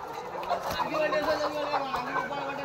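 Chickens cluck on a newly set-up poultry farm, close and continuous, mixed with people talking nearby.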